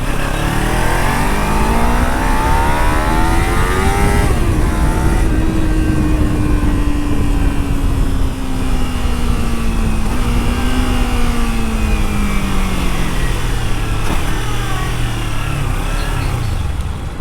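A stock-exhausted Kawasaki Ninja 300 two-cylinder engine revs loud and close, with rising and falling pitch sweeps as the throttle is blipped repeatedly and held, running steadily with no talk.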